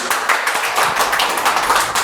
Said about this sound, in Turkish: Nerede alkışım benim?